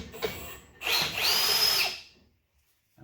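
A Milwaukee Super Hole Hawg drill motor, used to power a hand metal roller, spins up with a high whine for about a second, winds down and goes silent, after a short click.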